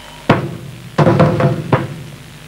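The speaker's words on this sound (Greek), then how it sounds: "Το χτύπο της πόρτας δεν ακούς!" Knocks on a palace door in a 1992 Thessalian Theatre stage production of Aeschylus' Choephori: one heavy wooden thump, then a rapid cluster of three knocks and a final blow, close and resonant against a quiet hall.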